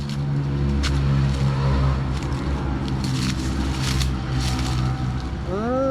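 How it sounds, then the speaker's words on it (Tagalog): A steady mechanical engine drone hums in the background, a motorized grass cutter running continuously at a distance, with a brief rising tone near the end. "May naggagapas doon pero makina kaya lang malayo."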